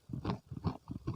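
Crunchy, savory fried banana chips being bitten and chewed up close, four crisp crunching bursts in a steady rhythm with no talking.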